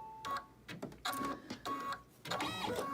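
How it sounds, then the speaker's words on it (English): A computerized embroidery machine sews a placement stitch for a ribbon on an in-the-hoop stocking, giving a busy mechanical chatter with short pauses and restarts across the whole span, fairly close and with no voices. "we're going to let this stitch sew out. And you can see it's just going to sew a placement stitch."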